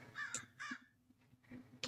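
Crow in a Minecraft world with the Create mod cawing in repeated harsh calls, three or four bursts spaced across a couple of seconds, fairly close and clear.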